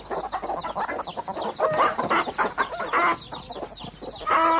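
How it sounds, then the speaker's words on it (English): A flock of chickens clucks and squawks busily and close up, overlapping calls coming in quick irregular bursts with no one talking, as a sound effect in an audiobook. "the whole place was teeming with chickens"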